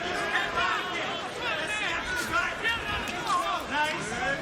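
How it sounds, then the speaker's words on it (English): Crowd noise at a PFL mixed martial arts fight in Tampa, a steady arena murmur of many voices that rises and falls, with a commentator talking over it. "Crowd didn't like that."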